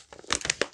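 Crinkly, crackling bursts of tearing wrapping paper and tape come from a heavily taped Christmas gift package being unwrapped up close. They arrive in quick irregular snaps over less than a second.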